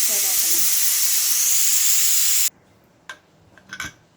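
A loud, steady hiss of steam from a pressure cooker whistle while cooking vegetable kurma cuts off abruptly, followed by a few faint clinks and a brief voice.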